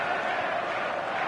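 Stadium crowd on match day in a football video game: a broad, steady roar of massed fans holding at a constant level throughout, with no distinct chants or breaks.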